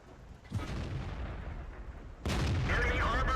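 A KV-1 heavy tank in the World of Tanks game fires its cannon twice: two loud, booming shots about two seconds apart, each with a rumbling tail.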